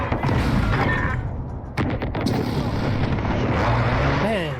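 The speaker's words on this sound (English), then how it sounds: "Friendly precision airstrike inbound." Airstrike explosions go off in Call of Duty, a dense run of heavy booms and rumbling blasts that stays loud and continuous, mixed with game sound effects and a voice in the background.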